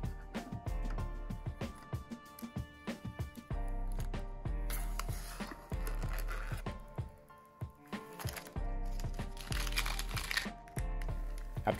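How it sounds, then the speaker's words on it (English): Plastic protective wrapping is peeled and pulled off a new Alienware Aurora R10 desktop PC case, with close, continuous crinkling and crackling in uneven bursts and brief pauses. "After finally taking off all of this plastic wrapping"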